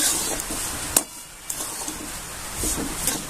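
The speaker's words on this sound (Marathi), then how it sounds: "एक वाटी साखर घालून द्यायची छान असं हलवून द्यायचं" Sugar being stirred into roasted sabudana and bhagar in a pan, a dry, grainy hiss with a few light spoon knocks against the metal.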